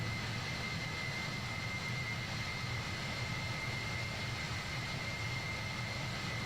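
Boeing 767 jet engines at full throttle in Microsoft Flight Simulator 2020: a loud, steady roar with a broad rumble and a sustained high whine, constant for several seconds with no other sounds.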